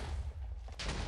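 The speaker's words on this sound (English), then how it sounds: "Can those explosions hurt us?" Explosion rumble in Minecraft, a deep low-frequency boom sustained under the scene with a louder burst of noise near the end, game sound without speech over it.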